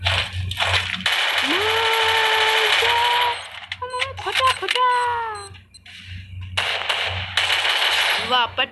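Bursts of gunfire ring out in the battle royale game Free Fire, loud and choppy between pauses, while someone talks excitedly over the action.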